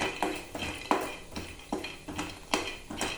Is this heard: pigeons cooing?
no